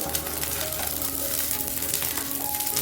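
Food sizzles and spits steadily in a hot pan as it is stirred, a dense continuous frying hiss at close range with faint scraping underneath and no voices.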